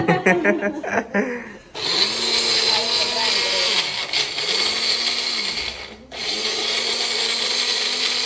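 A mixer grinder whirs loudly, blending spinach, green chillies, coriander and a little ginger in several pulses with brief pauses, after a short stretch of talking.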